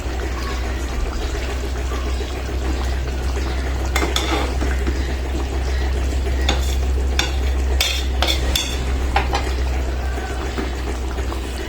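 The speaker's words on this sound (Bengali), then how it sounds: "এখন আমি জিরা ভাজা ফাঁকিটা দিয়ে দিই।" Goat liver curry sizzles in a pan while roasted cumin powder is stirred in, a steady close frying hiss broken by several sharp scrapes and clinks of a spoon against the pan.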